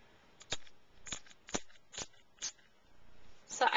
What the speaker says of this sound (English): it's a nice fine spray mist